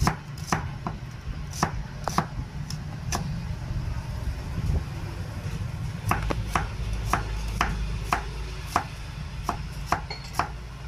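Onion and garlic are chopped with a knife on a board: crisp, close strikes in uneven bursts of several quick cuts, separated by short pauses over a low background hum.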